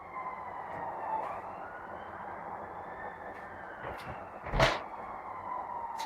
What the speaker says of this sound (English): Whoever said ambulance, give yourself some internet.